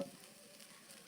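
Very brief stirring of food frying in a pan, a quiet sizzle with a soft scrape and a small clink at the end.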